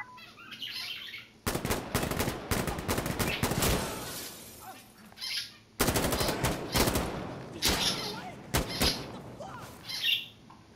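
Rapid automatic gunfire in the video game Insurgency: Sandstorm, with loud close bursts and sharp cracks in two main volleys and scattered single shots between them, over faint outdoor ambience with birds.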